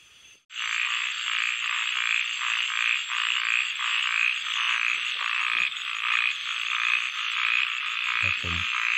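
Frogs croak in a loud, dense chorus on a rainy night during stone crab hunting, a steady pulsing wall of calls with a brief knocking noise near the end and no voices.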